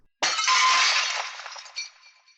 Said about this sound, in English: shattering the window